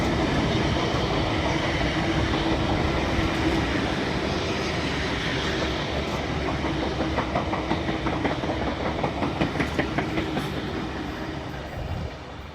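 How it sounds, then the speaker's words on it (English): V set electric passenger trains rolling out of a tunnel past the Zig Zag Railway Museum in the Blue Mountains, a close, loud steady rumble of wheels with rhythmic clickety-clack over rail joints building toward the end. "V33 and V35 emerged from number 10 tunnel past the Zig Zag Railway Museum"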